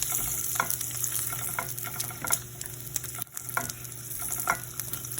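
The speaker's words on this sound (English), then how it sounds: "let this sizzle for about 30 seconds" Bacon sizzling in butter in a pan crackles and spits continuously at close range, with small pops and stirring scrapes scattered across the sizzle and no talking.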